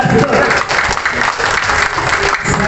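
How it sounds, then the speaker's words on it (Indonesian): Loud, dense applause from a crowd at an Indramayu Komdas anniversary gathering, a close continuous wash of clapping hands with a voice faintly mixed in beneath it. "tepuk tangan untuk Komdas."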